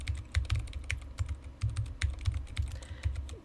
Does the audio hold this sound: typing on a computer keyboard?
yes